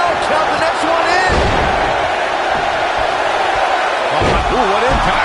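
A body slam impact in the WWE 2K19 wrestling video game, a heavy thud landing amid a loud, roaring arena crowd while a commentator's voice runs over it.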